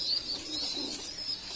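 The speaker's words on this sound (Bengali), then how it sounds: "এটা হচ্ছে মং জাতের কবুতর" Mong breed pigeons murmur and coo softly in a loft, with a steady thin high-pitched tone and a faint rustle running underneath, no voices.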